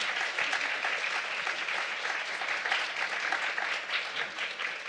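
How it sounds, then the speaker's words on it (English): An audience at a poetry reading gives a final round of applause for two poets, a steady even patter of many hands clapping at moderate volume without a break. "let's have one final round of applause"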